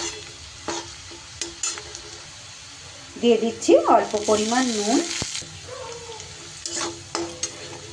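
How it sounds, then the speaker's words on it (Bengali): Onions fry and sizzle in a pan while being stirred for a butter catfish curry, a steady crackling hiss throughout with scraping stirs, and someone speaks over it midway. "পেঁয়াজটা বেশ এইভাবে লাল লাল করে ভাজা হয়ে গেলে"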